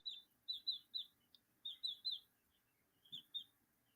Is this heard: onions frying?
no